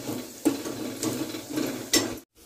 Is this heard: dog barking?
no